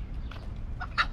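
A chicken on Oahu, Hawaii, gives a few short clucks near the end, faint against steady outdoor background noise.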